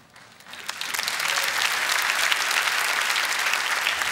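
A TEDx audience bursts into applause, the clapping swelling within the first second and then holding as a dense, loud, sustained wash of many hands with no voices over it.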